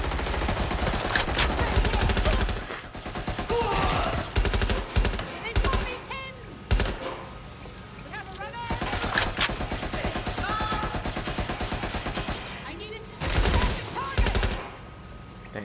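Light machine gun fire in the video game Watch Dogs Legion: several long bursts of rapid automatic gunshots, loud and close, broken by short pauses.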